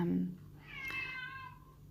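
A cat meows once, a clear drawn-out call near the microphone, following a brief bit of low background voice.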